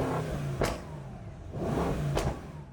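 A 2025 Mercedes-AMG S63 E Performance sedan gets two quick, sharp revs about a second and a half apart, each flaring and settling back to a low idle.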